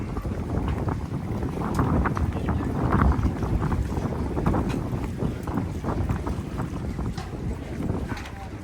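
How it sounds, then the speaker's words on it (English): Aboard the National Park Service ferry crossing to Fort Matanzas in Florida, a steady low engine rumble and water wash are heard, buffeted by gusty wind noise on the microphone. "We are heading down to get on the National Park Service ferry to get us across to Fort Matanzas."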